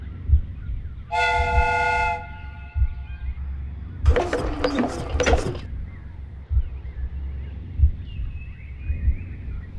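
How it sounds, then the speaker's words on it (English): In the video game Sherlock Holmes: Crimes and Punishments, a loud steam whistle blows a sustained chord-like tone for about a second, followed by a burst of hissing steam, over a low rumbling background. "The steam whistle is ready to be used."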